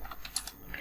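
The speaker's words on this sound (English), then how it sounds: "we can just type a message" A computer keyboard typed on while writing Java code, a brief burst of a few light, quick key clicks, close and faint with no talk.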